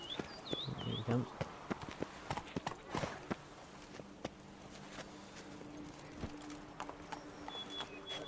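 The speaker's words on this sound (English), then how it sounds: "Run, Roach" A horse gallops in The Witcher 3 video game, a quick, steady clip-clop rhythm of hoofbeats, with a brief whinny early on and light background sounds.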